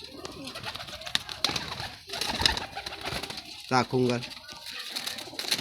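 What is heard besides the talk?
pigeons cooing, Ferozpuri pigeons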